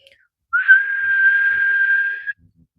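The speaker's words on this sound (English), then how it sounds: "Do you know how to whistle?" One long, steady whistled note by a person, loud and clear, held for about two seconds amid silence.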